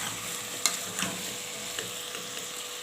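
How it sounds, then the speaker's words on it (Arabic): Tomatoes go into a pan of sautéed potatoes, setting off a loud, steady sizzle of frying. A few sharp scrapes and knocks of stirring come through near the start, and no one speaks. "البطاطس بتاعتي خلاص اتشوحت، هنزل عليها بالطماطم بتاعتي على طول"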